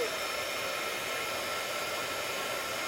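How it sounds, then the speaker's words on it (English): A handheld heat tool blowing hot air to melt embossing powder in a stamping craft setup, a steady, loud, unbroken airy roar like a hair dryer running throughout. "heat tool is the next thing you need in order to emboss. And you can heat this from the bottom"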